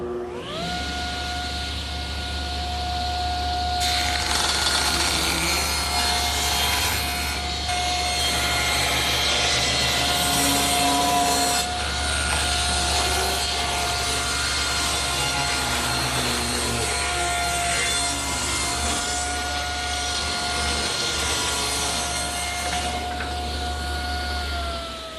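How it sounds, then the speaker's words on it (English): A table saw rips a narrow strip off one edge of a wooden board for a coffee table: a steady motor whine swells into a loud, rough cutting roar for most of the cut, then settles back to the idling hum. "So I think I'll set the saw at 3 1/2, just to remove a little bit from one edge"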